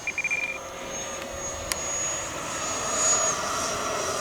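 An FMS Scorpion 90 EDF radio-controlled jet converted to 8S power screams at full throttle in the distance, a steady, sustained ducted-fan whine that slowly swells and shifts pitch as it passes over open ground.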